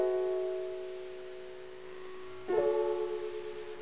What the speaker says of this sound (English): you can hear all the artifacts happening from the low sample rate